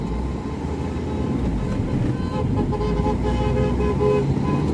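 A car engine revving and pulling forward during a driving lesson in Ankara, a loud steady rumble that builds gently as it accelerates, heard from inside the cabin.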